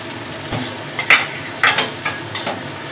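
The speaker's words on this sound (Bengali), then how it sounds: "সবজিগুলোকে খুব ভালো করে ভেজে নেবো" Mixed vegetables fry in a pan for a winter dish, a steady sizzle under several sharp scrapes and clinks of a spatula stirring at an uneven pace, close and fairly loud with no talking.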